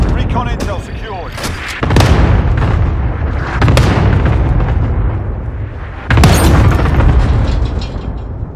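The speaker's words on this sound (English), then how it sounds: "Cluster strike away." A video game cluster strike sets off a run of heavy, booming explosions in close succession, loud, rumbling blasts layered over ongoing battle noise.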